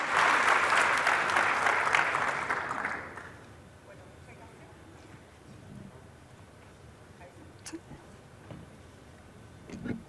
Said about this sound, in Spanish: Les damos un aplauso para este panel